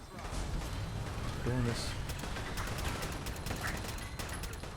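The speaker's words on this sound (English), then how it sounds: "They're shooting at us." Enemy gunfire crackles in bursts through a Fallout 4 firefight, scattered shots and rapid volleys under a player's brief talk and in-game voices.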